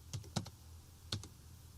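Quiet, close computer keyboard typing while entering amounts into accounting software: a few light keystrokes in two small bursts, with a short pause between them and no talking.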